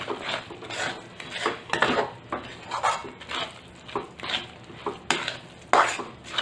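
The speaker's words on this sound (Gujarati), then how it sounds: "સરસ હલાવ્યા કરીશું।" Roasted peanut powder being stirred into melted jaggery in a pan over a low flame, with repeated scraping and clinking of a spoon against the pan in an uneven rhythm, close and moderately loud, with no talking.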